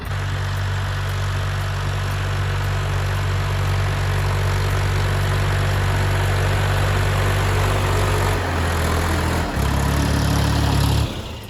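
A DTZ 5354 tractor engine pulls a 3-25 plough through a field. It is a loud, steady, low diesel drone with a constant hum, and near the end it briefly shifts pitch as if the load or throttle changes.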